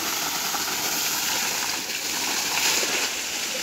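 Water gushes hard and steady from the pipe of a high-speed submersible pump, a dense, continuous rushing splash close by with no break throughout.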